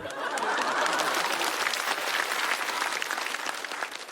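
Audience applause at a stand-up comedy show in Shanghai, a dense, loud burst of clapping from a live crowd that holds steady for several seconds and then begins to ease off.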